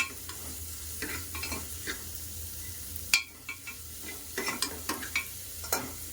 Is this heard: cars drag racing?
no